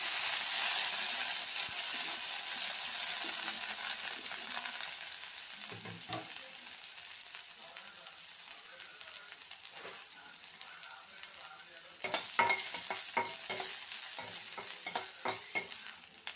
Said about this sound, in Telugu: ఇవి చిట్పట వచ్చిన తర్వాత ఆనియన్స్ వేస్తున్నాను